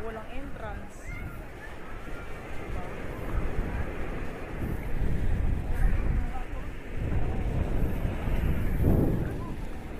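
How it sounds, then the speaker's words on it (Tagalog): Strong wind buffeting the microphone outdoors along a highway project site in Quezon province, a loud, rumbling low roar that swells and fades in gusts, with voices talking briefly under it. "Taas ng hangin."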